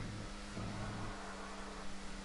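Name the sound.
race car engine note in the video game GTA V Online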